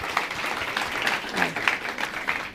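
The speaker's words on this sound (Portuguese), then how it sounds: "Eu quero pedir uma salva de palmas também para o pessoal do projeto de meta reciclagem que está aqui" An audience applauding the meta-recycling project team at a televised chamber event on the environment, a lively, sustained round of clapping from a modest crowd with faint voices underneath.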